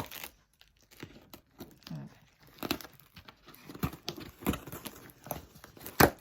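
A parcel sealed with three layers of adhesive tape is torn open, with crinkly ripping bursts arriving in irregular spurts. They build from quiet to a sharp, loud rip near the end.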